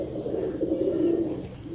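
Pigeons coo close by in a short burst of low, throaty, rolling calls that sit loud and alone.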